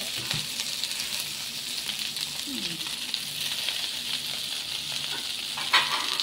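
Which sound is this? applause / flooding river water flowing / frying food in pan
frying food in pan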